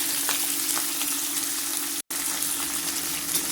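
Radish and carrot pieces frying in hot oil for a mixed pickle, giving a steady, loud, close hiss and sizzle throughout with a brief cut partway through.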